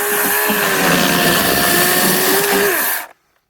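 A Teccpo 40-volt cordless chainsaw cuts through very dry, hollow wood outdoors, a loud steady high-pitched whine for about three seconds before stopping abruptly.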